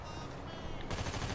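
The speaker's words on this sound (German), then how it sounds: "Deswegen mache ich schnell Schüsse." Rapid gunfire from a PS4 video game crackles in a dense, continuous burst that grows louder midway, alone without speech.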